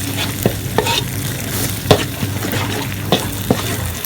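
Eggs sizzle and crackle with fish in a hot oiled pan while a spatula repeatedly scrapes and knocks against the metal, close up with no voices.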